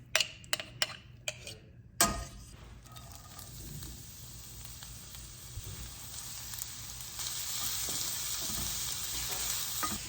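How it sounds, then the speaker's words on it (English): Onions frying in bacon fat in a pan, a steady close sizzle that builds and brightens over the clip, after a few sharp clicks and taps at the start. "while those onions are cooking"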